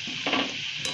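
Onion bhaji, kanda bhaji made with coarsely ground coriander and cumin, fry with a loud, continuous, close sizzle and a brief stir partway through, with no talking.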